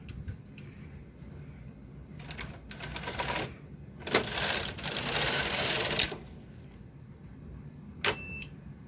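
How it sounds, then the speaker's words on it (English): An SK560 knitting machine carriage set for Jacquard knitting runs across the bed in two rattling, whirring passes, the second longer and louder, followed by a short electronic beep near the end. "We're going to knit across, turn on our machine, and set it up for Jacquard"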